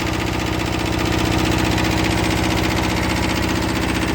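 A 1977 Japanese car idling in freezing cold to warm up, its engine a loud, steady, close rumble with a fast even pulse, running alone with no voices.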